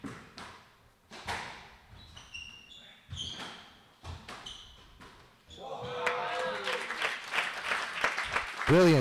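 Crowd applause at a professional squash final, bursts of clapping swelling near the end after scattered ball thuds and squeaks from the court, with no talk over it.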